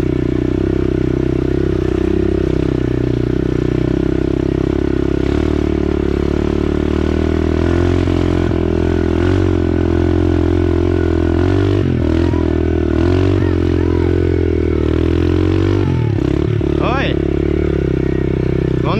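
A mini motorcycle rides a dirt trail called Trilha da Onça with a small child aboard, its engine droning steadily and revving in close with clattering and scraping over rough ground, plus a brief burst of talk near the end.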